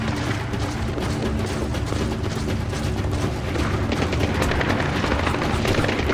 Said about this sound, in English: You keep moving, I'll draw their fire.